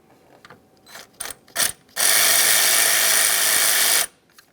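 Ratchet wrench with a 13mm socket loosening an adapter on a 2002-2005 Ford Explorer engine: a few short bursts of ratcheting clicks, then a steady two-second run of rapid, loud clicking close by, with no talk.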